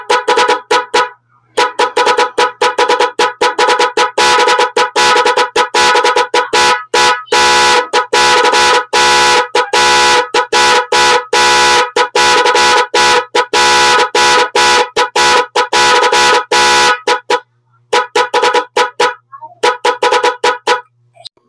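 Motorcycle LTC horn wired through a relay with an Nhay 3 Pro, sounding loud and close in a long series of rapid, stuttering honks and bursts, briefly pausing near the start and end.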